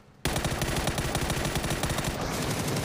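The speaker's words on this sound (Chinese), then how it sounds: "哇，马路中间开枪，你可真勇啊！" Dense, rapid automatic gunfire from PUBG battle-royale gameplay during a PGS esports match, a loud continuous burst starting abruptly and running unbroken for nearly three seconds.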